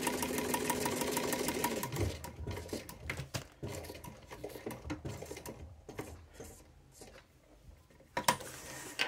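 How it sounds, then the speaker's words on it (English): A sewing machine stitches back and forth across a zipper on a fabric zipper pouch with ribbon. A steady whirring run gives way to choppy bursts of stitching with short pauses, close and fairly loud. "And I do go reverse across the zipper"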